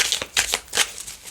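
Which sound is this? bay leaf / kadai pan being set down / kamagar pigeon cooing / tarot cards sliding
tarot cards sliding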